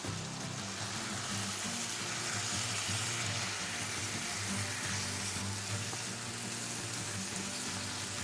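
Chicken pieces browning in a pan for pininyahang manok, giving a steady, even sizzle and frying hiss that runs unbroken throughout with no talking.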